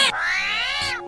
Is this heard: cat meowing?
yes